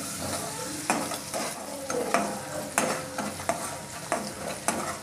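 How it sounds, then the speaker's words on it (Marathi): Ginger garlic paste frying in hot oil, a steady sizzle broken by regular scraping stirs of a spoon in a kadai, close and with no talking. "तर ही अद्रक लसणाची पेस्ट टाकणार आहे तेलामध्ये अगोदर।"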